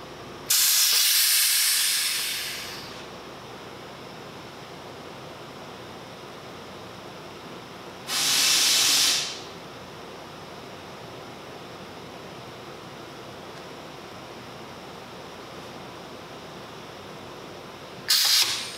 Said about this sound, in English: bring this air cylinder down to hold it against the nozzle and open it up.